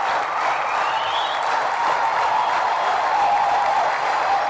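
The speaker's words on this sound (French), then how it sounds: "Ça mérite un applaudissement." A church congregation applauds after a sermon, a steady, dense clapping that holds at an even level from start to finish, with no pause.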